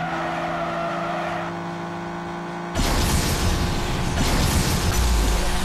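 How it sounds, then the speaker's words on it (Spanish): Sports car in the racing game Asphalt Nitro, a steady engine drone that suddenly breaks into a loud, harsh broadband skid and rushing roar which continues to the end. "Cuidado, nuestro auto está derrapando."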